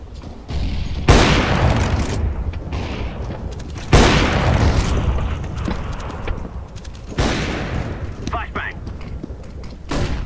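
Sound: grenade explosion in video game Counter-Strike: Global Offensive

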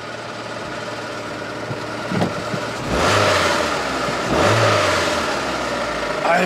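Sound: Opel Zafira damaged engine revving with rattling from cylinder head

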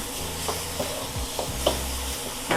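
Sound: vegetables stir-fried in a pan

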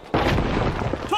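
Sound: frag grenade explosion in the video game The Finals

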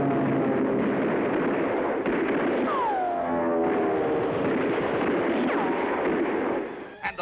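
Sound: cartoon robot weapons firing at a fleeing villain

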